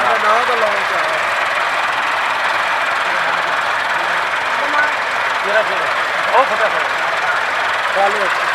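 Several tractors, one of them a Massey Ferguson, strain together to pull a heavy trolley free after rain, their engines droning steadily beneath continuous talking.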